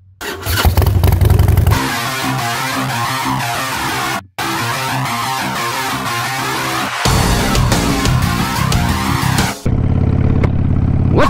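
A Harley-Davidson Sportster Iron 883 motorcycle engine runs loud and close, with a brief cutout near the middle, shifting tone in sections, and a quieter tail where it drops to a lower idle-like rumble.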